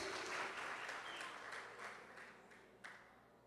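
Congregation applauding during a church sermon, a broad wash of many hands clapping that swells early and slowly fades over a few seconds, with one sharper clap near the end.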